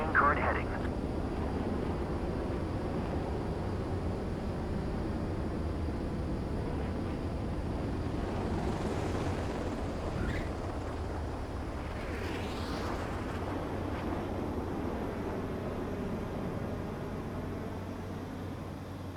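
In Ace Combat 7, a jet fighter comes in to land on a runway with a steady, broad engine roar and rushing air that holds evenly throughout, with a couple of faint swooshes partway through.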